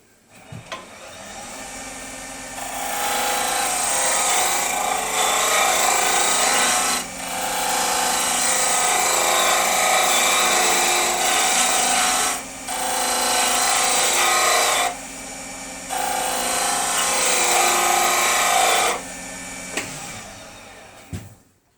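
A wood lathe spins a wooden pen blank while a tool scrapes and rasps against it in long steady passes, broken by brief pauses, with no talk.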